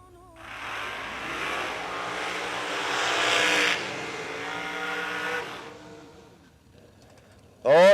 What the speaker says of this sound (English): if you like long, smoky burnouts, Max just gave you a good one